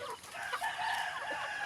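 Chickens at a poultry farm from Davao Oriental, a steady dense chorus of clucking and calls from several birds, close and continuous with no talk.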